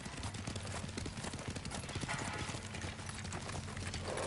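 Rapid clip-clop of a horse galloping in Ghost of Tsushima, steady hoofbeats pounding continuously and close throughout, with no pause in the rhythm.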